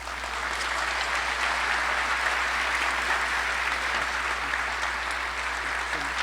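Sustained applause from a large audience at Aurora's State of the City address, dense steady clapping that holds at an even level from start to finish.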